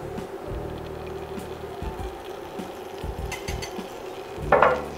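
Icing sugar and flour being mixed together in a bowl, a quiet continuous rustling and scraping with some low background hum, ending in a brief louder clatter of the utensil.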